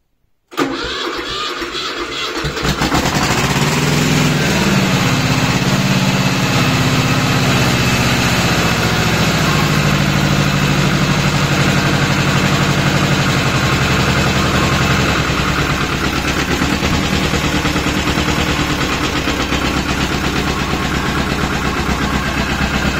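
A Pasquali tractor engine cranks and catches inside a garage, then settles into a loud, steady, rumbling idle that runs on without a break.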